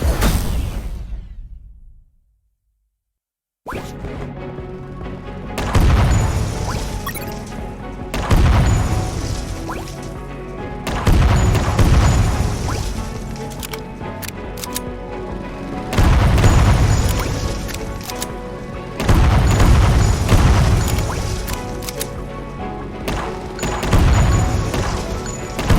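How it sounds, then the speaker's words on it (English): Grenades explode in the video game Unmetal, a series of loud booming blasts every few seconds after a brief silence, each with a rumbling tail. "You can actually throw the grenades on the diagonal"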